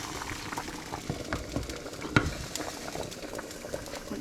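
Beef curry frying in a pan, a steady, close sizzle and bubbling with light stirring clicks throughout, and no voices.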